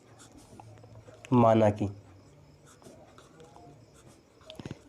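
Pen scratching across paper while a maths problem is written out, a brief close scrape run under someone speaking Hindi, with faint scratches later.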